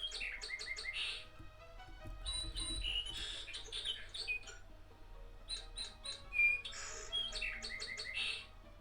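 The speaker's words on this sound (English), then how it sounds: "That's allegedly a sparrow." A sparrow Pokémon's cry from Pokémon Platinum comes as three bursts of rapid, high, thin chirps separated by short gaps, clear and fairly loud against a quiet background.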